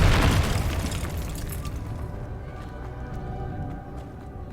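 Confringo explosion spell from the video game Hogwarts Legacy, one loud booming blast at the start that rumbles and slowly fades over several seconds.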